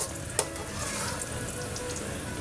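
Ingredients for chicken korma brown in a frying pan with a faint, steady sizzle and soft crackle throughout, plus one brief utensil tap near the start, with no talking.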